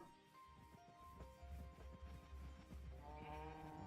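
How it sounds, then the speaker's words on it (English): Cattle lowing in a modded Minecraft 1.7.10 game world, several calls overlapping in quick succession over a steady low rumble, fairly loud and continuous like a herd moving together, with no talking. "Stampede of cows you can hear."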